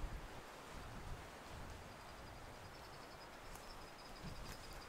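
Wind gusting over the Pickerel River on a windy morning, a steady broadband rush with soft low buffeting and no voices.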